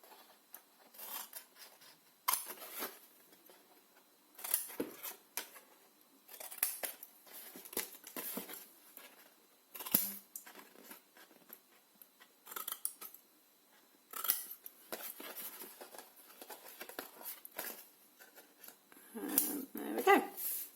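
Scissors cut through material in repeated crisp snips, close and fairly quiet, arriving in irregular bursts throughout with brief pauses and soft breathing in between.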